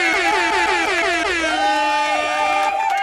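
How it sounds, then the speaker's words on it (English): A loud, sustained air horn blast with a blaring, slightly wavering pitch that fills the whole clip. "Guess what you're about to get? An air horn."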